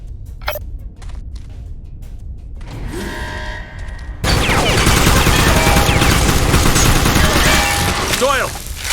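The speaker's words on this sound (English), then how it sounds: "I'm drawing fire from an unmanned turret station." An unmanned turret station opens fire in the video game Secret Service: a few sharp mechanical clicks and a whirring build-up give way to a loud, sustained burst of rapid gunfire with ricochet-like whines.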